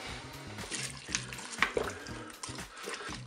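Water with a crumbled chicken stock cube poured into the pot of a Cookeo multicooker, a steady splashing pour of moderate loudness heard close up, with no talking.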